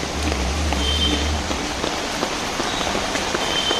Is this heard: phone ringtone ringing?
no